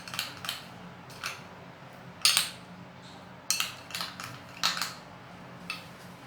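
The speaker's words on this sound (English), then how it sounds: "Okay, so what I'm going to do is I'm going to stir it" A utensil scrapes and clinks against a container while stirring chilled ingredients. The knocks come in irregular clusters, close and fairly faint, and no one speaks.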